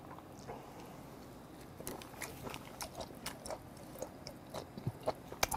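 Raw whiteleg shrimp is bitten and chewed up close in a quiet room, giving soft, wet crunches and squishy bites that come more often and grow louder toward the end, with no talking.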